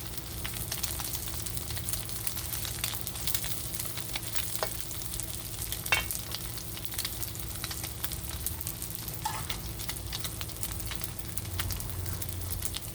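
A Thai omelette fries in a pan, a steady close sizzle of hot oil that runs without pause, with a few brief clicks and scrapes on top and no one talking.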